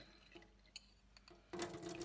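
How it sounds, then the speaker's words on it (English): Noodle cooking water poured out of a pot without a strainer, a sudden rushing splash that starts after faint quiet handling sounds and keeps flowing steadily to the end. "we're gonna pour the water out"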